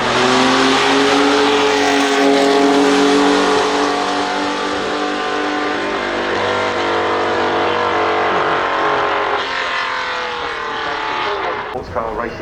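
A BMW race car drives at the Goodwood Festival of Speed, its engine loud and close, roaring and revving hard before easing off near the end, with commentators talking over it.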